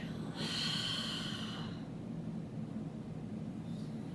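A single deep breath during a yoga exercise, a strong airy inhale close to the mic for about a second followed by a softer, quieter exhale.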